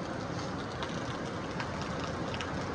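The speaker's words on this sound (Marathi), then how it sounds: "आमच्या इथं कालच्या धरून पाऊस लागलेला आहे, भरपूर पाऊस आहे" Steady heavy rain falling outdoors, a dense, even hiss with no pauses, fairly faint and heard alone.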